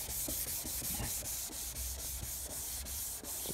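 Sandpaper rubs back and forth over a plastic Audi TT Mk1 headlight lens during wet sanding, a quick, even rhythm of rasping strokes, close and steady with no talk.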